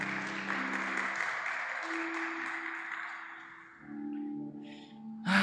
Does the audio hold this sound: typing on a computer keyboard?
no